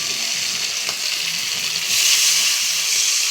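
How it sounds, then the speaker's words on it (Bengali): Water splashes into hot oil and masala for a Bengali poppy-seed fish curry, a steady loud sizzle that swells midway as the liquid hits the pan, with no talking. "এই যে এরকম ছোট্ট একটা বাটিতে জল দিয়ে দিলাম"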